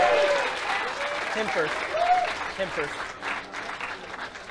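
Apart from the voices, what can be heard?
audience applause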